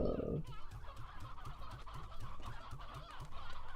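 Chickens in the Slime Rancher video game cluck in a rapid, repeated gobbling rhythm, steady and fairly loud, layered over a low background hum.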